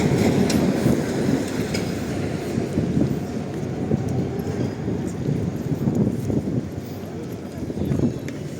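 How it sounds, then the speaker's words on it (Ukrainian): A tram in Lviv rolls by close up, a steady low rumble with rhythmic clacking of wheels over rail joints, with voices faintly underneath. "І в той трамвай їде теж."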